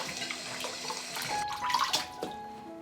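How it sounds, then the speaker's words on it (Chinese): Okra pods are rinsed under a running kitchen tap, a soft, close stream of water with small splashes and shifting gurgles as the pods are handled. "把这些秋葵给它清洗干净"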